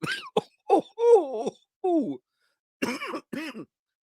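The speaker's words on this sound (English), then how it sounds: "This cough, it won't go away." A series of harsh, throaty coughs, about seven in a row with short pauses between them, loud and close.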